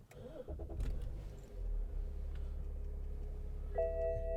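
A 2009 BMW X6 30d xDrive diesel fires up from its electronic start button: a brief cranking whirr, then a steady low idle heard from inside the cabin, with a soft chime near the end.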